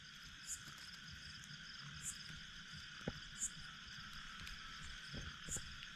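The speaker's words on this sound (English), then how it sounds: "check out this cricket. It's humongous." A very large cricket chirps at night in Challakere, giving a steady, faint high trill with a few louder chirps repeating every second or so against quiet background hiss.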